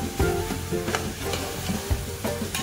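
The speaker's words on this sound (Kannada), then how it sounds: "ಚೆನ್ನಾಗಿ ಫ್ರೈ ಆಗ್ತಾ ಇದೆ ವೆಜಿಟೇಬಲ್ಸ್ ಎಲ್ಲ." Vegetables for pulao fry in a hot pan, giving a dense, continuous sizzle up close with occasional stirring clatter over it.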